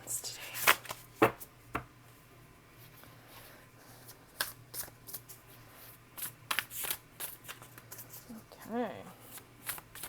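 Tarot cards being shuffled by hand in a series of quick, papery riffles and taps, fairly close and quiet, while someone speaks briefly over them.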